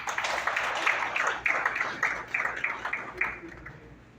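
An audience at an investiture ceremony for Haiti's youth government claps in steady, dense applause. Bursts of clapping swell and ease throughout, with a faint murmur of voices underneath.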